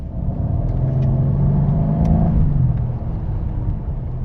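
A Mercedes-Benz CLS550 accelerates hard, its engine giving a steady, loud rumbling rise in pitch that holds and then eases off over a few seconds, heard from inside the car with no talking.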